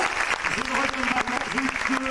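Outdoor crowd applause at a public square event in Place Mirabeau, dense steady clapping filling the clip, with a voice speaking over it.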